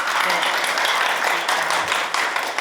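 Attendees at a National Assembly forum on patient safety education for nursing students clap for an introduced speaker, a brief, dense, even round of applause heard up close.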